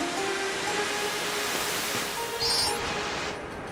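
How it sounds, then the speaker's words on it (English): A backwards-flowing waterfall in the video game Klonoa: Door to Phantomile rushes as a steady, dense roar, with faint game tones drifting above it. "The waterfall."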